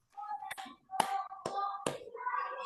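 A group in a teacher-training classroom claps out a rhythmic success clap, four sharp, close hand claps in a steady beat, with voices chanting along between them.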